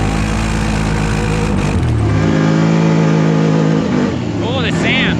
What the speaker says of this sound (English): I'm on an ATV that's got a bigger engine than that side-by-side in front of me.